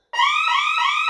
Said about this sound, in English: and that was the alarm sounding.